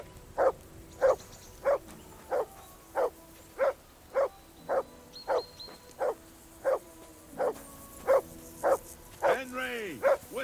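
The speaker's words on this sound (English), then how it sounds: "That dog of yours is barking" A dog in the medieval game Kingdom Come: Deliverance II barks over and over, about sixteen sharp, evenly spaced barks at a steady rhythm, loud and close, with a low background hum.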